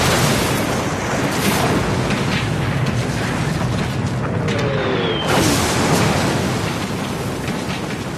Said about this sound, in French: En quelques heures, 1 million d'obus s'abattent sur les positions françaises.